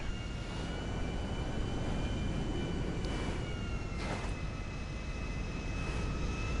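A large airliner's engines roar in a steady, unbroken drone while taxiing in a PS4 flight game, constant and close, with a faint high whine running through it.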